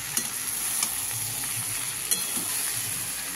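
Soybean chunks and green chillies stir-fry in a pan with a continuous close sizzle, broken by scattered clicks and scrapes of stirring, and no voices.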